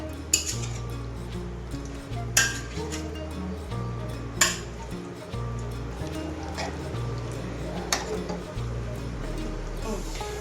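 Fish pieces go into a clay pot of simmering curry, with scattered clinks of a utensil against the pot over a steady low hum, and a few sharper knocks standing out. A person talks quietly throughout.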